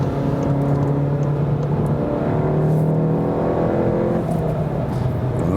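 A VW Golf GTI's 2-liter engine pulls steadily under acceleration on a motorway for several seconds, its tone climbing through the gears in a smooth, continuous drone heard from inside.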